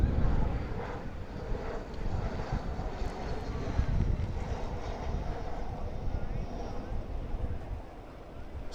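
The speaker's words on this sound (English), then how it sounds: "Let's get one more view of a corporate jet coming into Gabreski Airport." Corporate jet coming in to land at Gabreski Airport, a steady broad engine roar that holds throughout, fairly loud with wind buffeting, easing slightly at the end.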